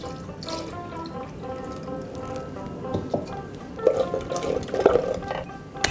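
Boiled, reduced milk is poured into yogurt for a Bengali ghol drink, a soft, close liquid trickle with wet splashes and drips that grow a little louder toward the end.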